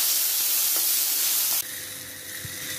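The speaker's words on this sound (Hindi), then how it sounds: "हमने 1 मिनट अपने प्याज को भून लिया" Chopped onions sizzle and fry in a pan with very little oil, a loud, close hiss that drops abruptly partway through to a quieter crackle.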